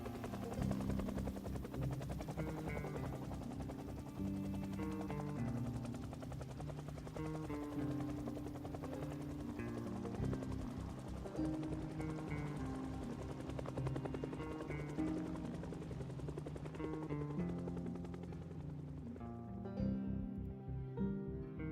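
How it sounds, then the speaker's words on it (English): A video game helicopter's steady rotor chop thrums throughout at moderate volume, a continuous pulsing drone that fades slightly toward the end, in Project Zomboid. "the fact that the helicopter sounds like it has left"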